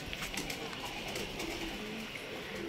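Soft pigeon coos come from a rooftop loft of racing pigeons, faint and a little distant, set against steady outdoor background noise with no talking.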